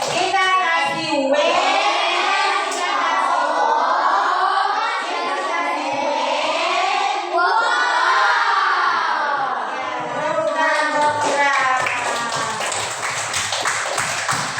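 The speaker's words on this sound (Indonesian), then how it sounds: "Ya, kita beri kata-kata tepuk wow." A group of children in a classroom perform the rhythmic 'tepuk wow' clap-and-chant routine, voices chanting loudly in unison over patterned clapping, continuous and close.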